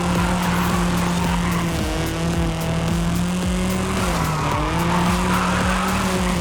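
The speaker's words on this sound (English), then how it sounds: "Just gonna keep drifting down here" Car drifting in Forza Horizon 5 on a mountain touge road, with a sustained engine drone and long tire squeal that wavers in pitch as the car slides through corners, loud and continuous.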